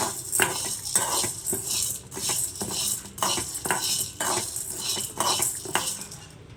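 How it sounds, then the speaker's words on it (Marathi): Dal dry-roasting in a pan over low gas, a spoon scraping and stirring against the metal in repeated rhythmic strokes, with a faint dry rustle of the grains and no talk. "आपण ही बारीक गॅसवर चांगली अशी थोडी लालसर होईपर्यंत भाजून घेऊया।"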